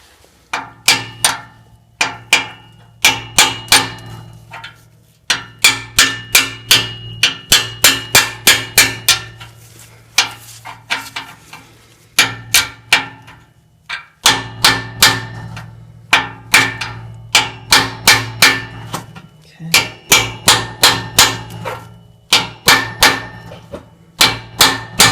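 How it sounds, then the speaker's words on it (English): A hammer striking a Kobalt 59968 bolt extractor onto a rusted-out exhaust lock nut: loud, sharp metallic taps in quick bursts of several blows, repeated with short pauses, close up and without talking. "Alright, so I'm going to start tapping. It's going to get loud."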